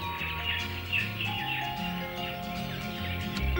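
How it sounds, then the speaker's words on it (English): Several birds chirp and call repeatedly in the Thar desert after rain, with overlapping, close, bright tweets and no talking. "The aroma of rain attracts birds from far and wide."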